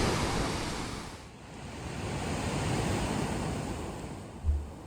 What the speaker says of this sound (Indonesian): ombaknya lumayan besar